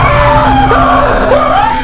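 A character in a horror video game screams loudly and continuously for about two seconds, a sustained wavering yell that fills the clip alone.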